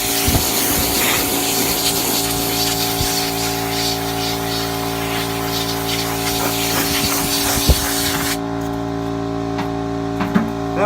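Air compressor nozzle blowing dust from between wooden drum staves before glue-up, a loud, continuous hiss with a steady motor hum underneath, the blast cutting off near the end while the hum continues.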